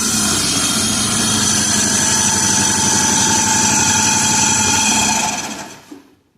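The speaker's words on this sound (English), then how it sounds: "That's a running engine." A 1986 Shelby Charger engine idles close by, loud and steady with an even low rumble and mechanical chatter, then dies away near the end; no voices.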